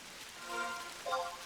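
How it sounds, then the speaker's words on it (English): Rain falls in the Jeuno Forest area of the Final Fantasy XI video game, a soft, steady hiss of drops on surfaces, fairly faint and continuous over a short stretch. "it's raining."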